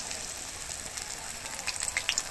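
Banana flower (mocha) rings fry in hot oil with a steady, dense sizzle. Sharper crackles and pops build toward the end, close by, and nobody speaks.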